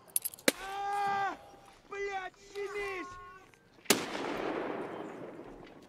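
A frag grenade explodes in the video game Escape from Tarkov, a sudden sharp blast followed by a lingering rumbling decay, after a stretch where voices talk.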